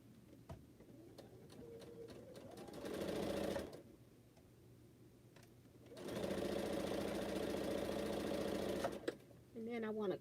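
A sewing machine stitches a quilt in two runs, a short burst and then a longer steady whir of rapid needle strokes, with scattered clicks and handling noises in the pauses.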